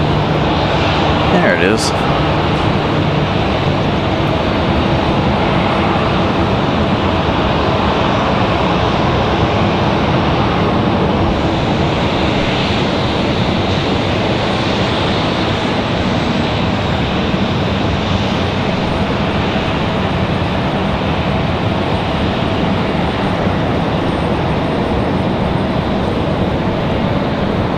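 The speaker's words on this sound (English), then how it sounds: "this PC-12 coming in from Lynchburg" Pilatus PC-12 turboprop arriving at Raleigh-Durham airport, a steady broad engine and propeller rumble heard from a distance, with someone speaking briefly near the start and wind noise throughout.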